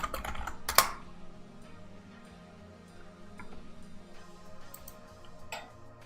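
Quiet, close keystrokes on a computer keyboard, a loose run of soft clicks with one sharp louder tap near the start and sparse pauses, no voices.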